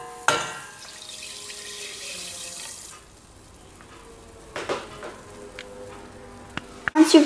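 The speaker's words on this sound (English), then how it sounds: "once you've measured out the sugar, you should put it in the water." Measured sugar is poured into water in a pan while making homemade orange squash, a steady hissing pour lasting a few seconds, followed by quieter clinks and knocks of utensils nearby.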